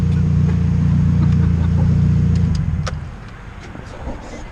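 A turbocharged Honda CR-V engine roars loudly and steadily with exhaust dumping through the wastegate, then cuts off and fades to a low idle rumble with faint voices in the background.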